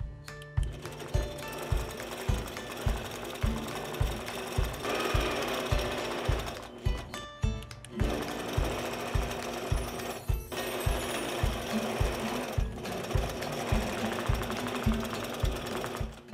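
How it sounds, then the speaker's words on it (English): Sewing machine quilting straight lines with a 4-n-1 ruler: a fast, steady mechanical stitching rhythm, close and continuous, with a few brief stops and restarts as the fabric is repositioned. "I'm gonna quilt a little bit more around here and let you guys kind of watch how I do it"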